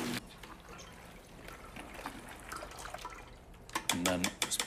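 Water poured into a pot while cooking, a close trickling, splashing stream that swells toward the end, with a voice talking over parts of it.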